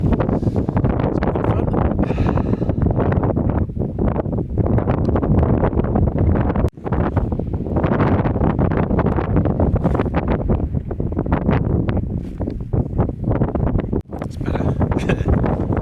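Strong, continuous wind on a cloud-covered mountain ridge buffeting the microphone, roaring and gusting steadily throughout with no voices.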